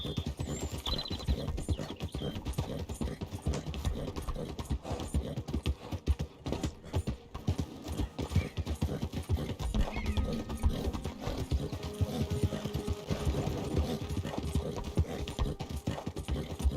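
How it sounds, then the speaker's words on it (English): Horse hooves clip-clop along the railway tracks in the Red Dead Redemption II video game, a steady ongoing clatter of hoof strikes at moderate distance, somewhat faint, with a brief whinny. "This can't be good for the horse's hooves, though."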